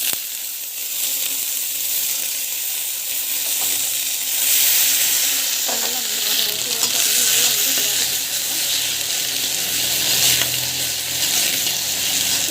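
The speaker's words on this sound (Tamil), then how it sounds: "உப்பு போட்டுட்டு நல்லா வதக்கிடுங்க." Ingredients sauté in hot oil in a pan as salt is added, producing a loud, continuous sizzle and crackle with occasional stirring scrapes, no voices.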